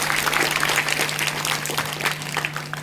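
Steady, dense clapping from an audience at a Basava religious discourse held at the Shirol Tontadarya Math, sustained and fairly loud throughout with a faint crowd murmur.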